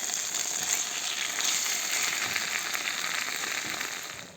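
Vegetables sizzle and bubble quietly in a pan, a soft continuous crackling hiss that tapers off near the end.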